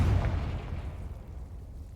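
A Confringo spell bursts in Hogwarts Legacy as a single deep boom that rolls off into a fading rumble over about two seconds, loud and full.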